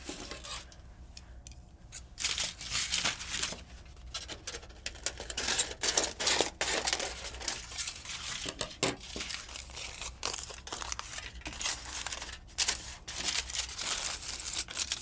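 Aluminum foil being cut with scissors and crinkled while lining a pizza box, busy irregular rustles, crackles and snips for the full stretch, close and fairly quiet.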